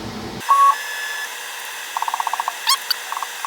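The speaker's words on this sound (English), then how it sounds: "once the probe makes contact with the vise, the multimeter will ring out" A multimeter's continuity beep sounds as its probe touches a CNC mill vise on a Tormach PCNC 440, a short steady tone followed by a quick run of near, evenly spaced bleeps and a few more chirps.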